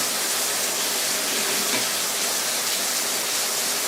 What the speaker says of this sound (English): I have my white mushrooms, white button mushrooms sauteing